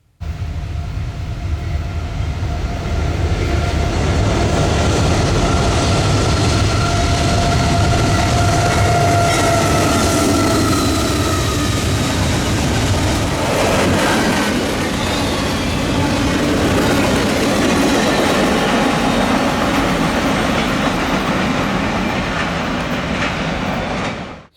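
An eastbound Norfolk Southern freight train led by orange BNSF GE locomotives rumbles past close by, with a steady roar of wheels and clickety-clack from the cars that continues throughout and fades slightly at the end.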